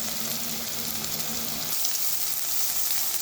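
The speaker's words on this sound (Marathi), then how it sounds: "आता यामध्ये मी आलं लसूणची पेस्ट टाकली आता छानसं परतून घ्यायचं आहे" Ginger-garlic paste sizzles and fries in a hot pan, a steady close hiss with a faint low hum that drops away partway through.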